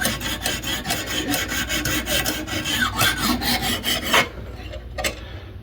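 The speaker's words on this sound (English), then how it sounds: "extra coarse stone to reprofile this blade to 20 degrees" A knife blade is drawn over an extra coarse stone on a Lansky sharpening system while being reprofiled to 20 degrees. It makes a steady run of light, rhythmic rasping strokes that stop abruptly near the end, leaving a couple of faint scrapes.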